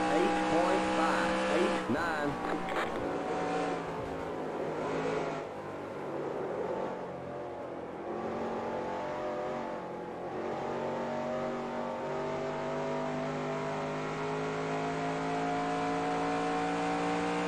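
Race cars in the PC game NASCAR Racing 2003 Season at Homestead Miami Speedway, a steady loud engine drone with rising and shifting revs throughout, no one talking during it.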